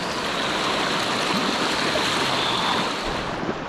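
A fast river rushes steadily during a dangerous crossing on a gold-mining trip, its loud, broad roar of churning water continuous and close throughout.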